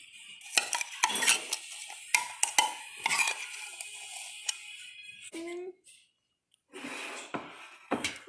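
A spoon stirs Thai tea with half a cup of condensed milk, clinking and scraping against the cup in a quick, repeated rhythm with short pauses, fairly close and moderately loud, with no talking.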